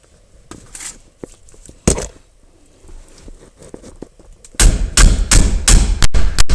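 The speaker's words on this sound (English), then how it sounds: "A little more banging, a little more pulling." Banging and pulling on the steering wheel of a square-body truck to get it off, heard as scattered thuds and knocks that grow into a rapid run of loud, close blows toward the end.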